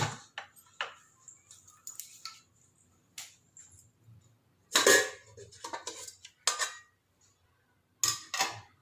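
Metal cookware clatters and clinks in short, sharp bursts with quiet gaps between them as a pressure cooker's contents are taken out, close by in a quiet kitchen, with no talking.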